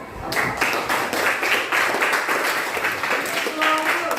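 A classroom group claps after a student's flora and fauna presentation, a dense, steady burst of applause that starts abruptly and carries on evenly, with a faint voice near the end.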